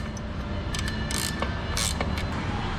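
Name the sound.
tightening the shock mount bolts with a ratchet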